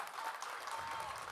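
Basketball crowd in a high school varsity gym cheering and clapping as the home Cougars push for an offensive foul call; a dense, steady wash of applause and crowd noise throughout, no clear talk on top.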